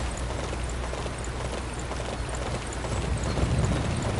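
Horse hooves clip-clop steadily in the battle game Dynasty Warriors 9, a continuous rapid galloping patter buried in dense, noisy game sound.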